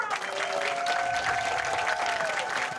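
A crowd at a professional women's bowling tournament claps steadily for a bowler after her match, while a voice carries over the applause.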